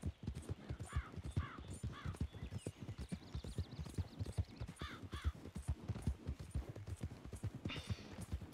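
Horse hooves gallop in a fast, steady clip-clop rhythm in a Yellowstone roleplay video game, with occasional whinnies and snorts over the running beat.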